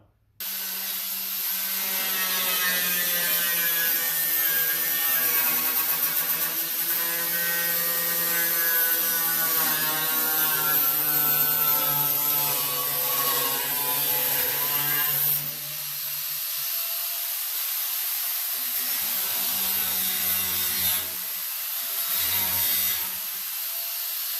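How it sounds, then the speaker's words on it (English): A power cutting tool slices off the drip rail of a 1964-74 GM A-body classic car, a loud sustained whine whose pitch sags before cutting out midway, followed by shorter bursts of cutting and quieter gaps. "Now what I'm going to do is I am going to cut more of this off and do the same thing over till this is all done."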